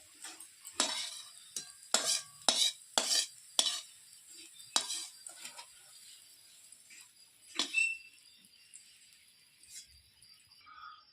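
Fried vegetables are stirred and scooped out of a kadai with a metal utensil while cooking paneer chowmein, giving a series of sharp scraping clatters and light sizzle, close and clear, fading to quieter scrapes toward the end.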